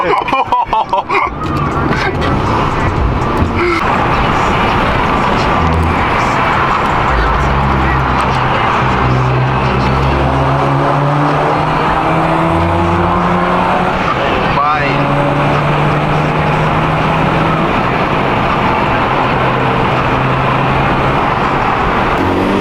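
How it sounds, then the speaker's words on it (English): A Volkswagen GTI with full bolt-on modifications accelerates hard from inside the cabin, its engine droning loud as the turbo spools up with rising whines and sweeps through several gear pulls, while people talk over it. "that turbo noise"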